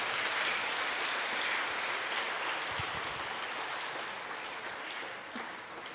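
An audience at a gathering claps in sustained applause, a broad, fairly distant wash of many hands that stays steady before easing slightly toward the end.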